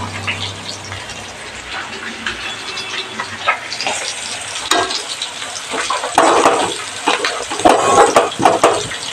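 Green chillies fry in a pan with garam masala, turmeric and coriander powder for a potato curry, giving a steady close sizzle and crackle that swells louder and busier in the second half.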